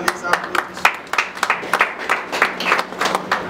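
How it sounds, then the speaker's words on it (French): A congregation at a memorial gathering breaks into clapping, a few nearby hands striking in uneven bursts, loud and close, with the crowd's murmur and voices running beneath it. "on l'encourage par les applaudissements"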